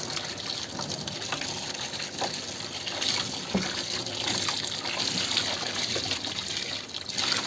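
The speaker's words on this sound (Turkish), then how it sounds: "Bir kettle su daha döküyorum üzerine." Hot water from a kettle pours steadily onto a greasy oven, a continuous splashing gush that runs the whole way through at close range with no talking.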